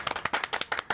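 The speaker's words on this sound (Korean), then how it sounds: "박수로 환영해 주세요." An audience at a book talk claps briefly to welcome an author, a quick run of sharp, fairly close hand claps from a small crowd, irregular and slightly uneven.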